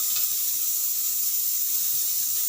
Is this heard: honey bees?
no